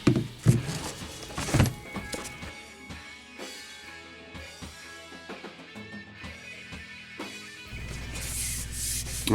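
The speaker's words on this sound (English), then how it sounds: "I'm going to smooth that out with some 220" Hand sanding a wood piece with 220 grit sandpaper in an attic: irregular rubbing strokes with a few thunks, close and moderately loud, with no talking.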